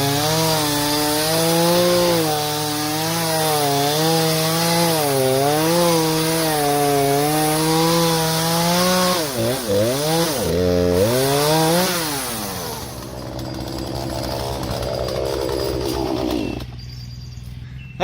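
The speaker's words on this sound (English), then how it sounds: "I'll hit it with that chainsaw" On a farm, a chainsaw cuts wood up close and loud, its engine droning and rising and falling steadily as the blade bites, then revving hard and tapering off toward a lower idle.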